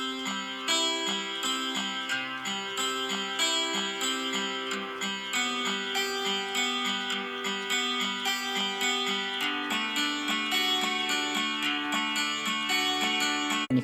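Aeroband Pocket Guitar groove preset, rhythmic variation 1, gives a repeating strummed chord pattern with an even, bouncy pulse and bright plucked tones, played steadily and alone without talk.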